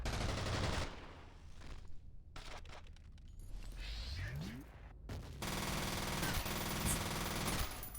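In the video game F.E.A.R., bursts of gunfire give way to a frag grenade's loud, sustained blast that fills the last few seconds, with quieter crackling and scattered shots earlier.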